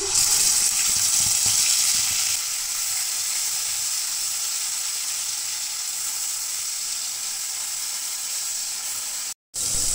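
Onion paste sizzles loudly in hot oil already tempered with bay leaf, dried red chilli and whole garam masala for a yogurt catla fish curry, a dense, steady frying hiss that briefly cuts out near the end.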